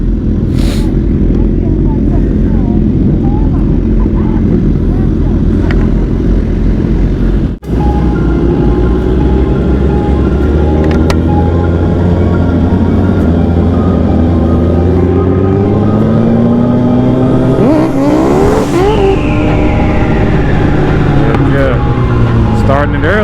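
Sport motorcycles like a ZX10R, S1000RR, R1, 1199 and CBR-RR rumble and rev loudly at a street meet-up, with rising engine tones and steady throttle swells throughout while people talk over them.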